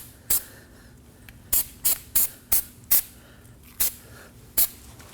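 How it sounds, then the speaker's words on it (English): Short bursts of Never Seez anti-seize sprayed onto a brake rotor surface during front knuckle work on a 2011-2016 Kia Optima, about eight quick hissing puffs in an irregular rhythm, close and crisp against a quiet shop background. "I like to spray some Never Seez on the surface"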